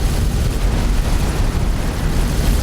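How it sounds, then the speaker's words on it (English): A space battle explosion in the game X4: Foundations, a dense, continuous rumbling roar with heavy low-end boom that stays loud throughout with no speech. "Explosion imminent."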